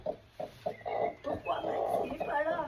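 Hens cluck in a chicken coop during egg collecting, a close run of short, uneven clucks and squawks that rise into a longer agitated call.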